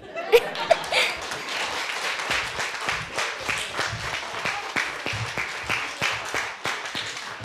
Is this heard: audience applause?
yes